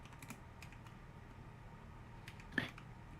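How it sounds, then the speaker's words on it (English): A few scattered, faint keystrokes as numbers are typed on a computer keyboard, then one sharper, louder click near the end, all close by over a quiet room hum. "I'm just typing down all the numbers"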